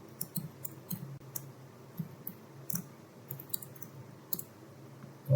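Keys on a computer keyboard are tapped while a password is entered and Enter is pressed, producing soft, irregular clicks in a quiet room, with a slightly louder press at the very end.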